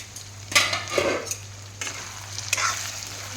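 Chicken curry in a pot is stirred with a few scraping, clinking strokes of a spoon against metal over a low background hum and soft bubbling, brief and close by.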